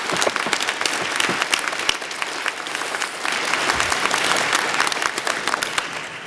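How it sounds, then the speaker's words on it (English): A convocation ceremony audience gives a round of applause, dense sustained clapping from many hands in a large hall, loud and even from start to finish. "Please give them a round of applause."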